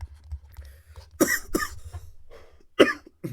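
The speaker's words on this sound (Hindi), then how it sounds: "मुझे थोड़ा सा खांसी हो रही है।" Several sharp coughs from a teacher during a Class 12 chemistry lesson on nucleic acids, bursting out in a quick pair near the start and another single cough later, close and fairly loud over a quiet room.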